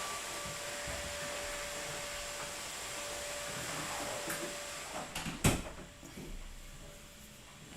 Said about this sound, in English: Sorry, you could hear the vacuum sound